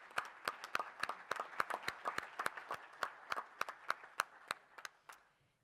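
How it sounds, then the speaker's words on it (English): A small scattering of hands claps at a California Alarm Association general session, quiet and somewhat distant, the separate claps forming an uneven patter that thins out and fades at the end. "A round of applause."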